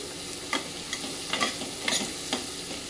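Chopped onions with turmeric sizzle steadily in a pan, with a soft continuous frying hiss broken by a few brief scraping stirs.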